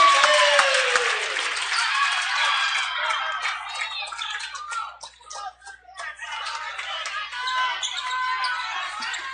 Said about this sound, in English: the St. Louis Park crowd really gets loud when they have a bucket